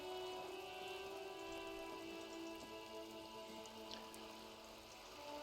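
Steady rain in Disco Elysium patters softly and continuously on surfaces, a faint even hiss with light droplets and no break for the whole stretch, heard alone without voices.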